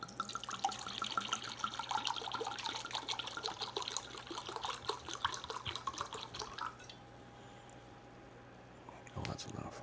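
Red wine is poured into a pot with beef stock for a recipe, a steady liquid trickle lasting about seven seconds before it stops, with quiet talking in the background.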